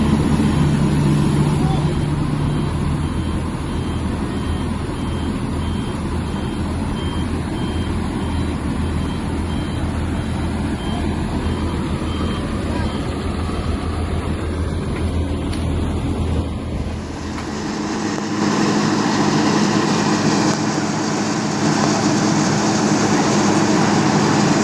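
Heavy tow and crane trucks idle and strain while hauling a crashed CPO palm-oil tanker out of soft ground, a loud continuous diesel rumble with intermittent reversing beeps and mechanical clatter, shifting to a rougher engine tone near the end.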